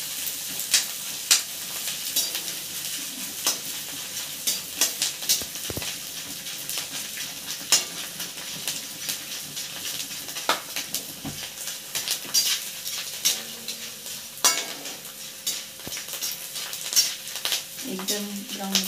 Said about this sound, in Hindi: हम अभी गोंद को थोड़ा थोड़ा करके फ्राई करेंगे, इसके फूले अच्छे से निकालेंगे।